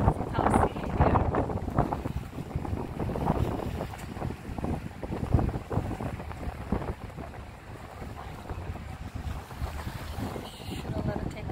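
Strong wind buffets over the sea aboard a ferry, roaring and gusting against the microphone in uneven surges, with the wash of waves and the boat's rumble underneath.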